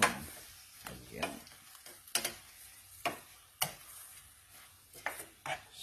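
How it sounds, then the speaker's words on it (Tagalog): Garlic, onion and ginger sauté in a pan for coconut-milk shrimp, with a soft steady sizzle under repeated clicks and scrapes of a utensil stirring against the pan, close by and with no talk. "igigisa lang natin sa bawang, sibuyas at luya"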